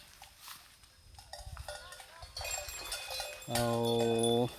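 Cattle wearing cowbells come to drink at a rice field. Bells clink and chime irregularly, then an animal gives a loud, sustained call near the end, set against quiet outdoor background.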